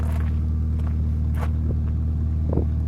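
A 2001 Honda Civic idles with an aftermarket exhaust, giving a steady, loud low rumble with a constant drone throughout and a few faint knocks over it.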